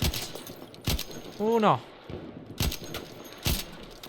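Sharp, rapid gunfire bursts from the video game Battlefield 1 crack repeatedly at close range, with a short rising whine in the middle.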